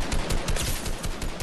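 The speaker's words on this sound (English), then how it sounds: "Now they shooting at us." Video game gunfire as rapid, overlapping bursts of shots, loud and close, rattling continuously through the short stretch.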